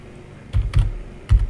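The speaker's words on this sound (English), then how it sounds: "I can just start typing." Keys clack on a computer keyboard in a few quick bursts, close and fairly loud, with a short pause between them and no talking.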